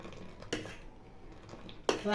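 A spoon stirs two cups of masala chai, giving a couple of sharp metallic clinks against the cup with quiet scraping in between, close and fairly soft.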